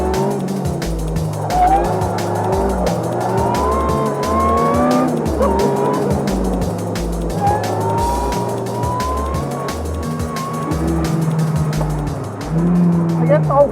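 An Ariel Atom 300 sports car is driven hard. Its engine note rises and falls through the gears while the tyres squeal in long, wavering howls, loud and close, with a steady throbbing rhythm underneath.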